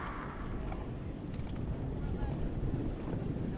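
Kawasaki 310R personal watercraft racing on open water, a loud steady engine drone mixed with wind buffeting and water rush, heard on board at close range.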